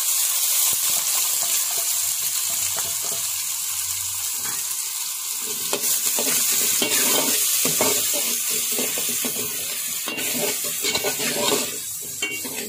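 Garlic cloves and onion sautéing in a pan after mustard seeds for murungai keerai sambar, a continuous sizzle with bursts of stirring and scraping, close and loud, with no talk.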